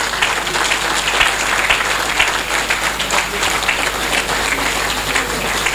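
Many hands clap steadily in a lecture audience at a faculty of administration week gathering, an unbroken, fairly loud patter holding at one level throughout.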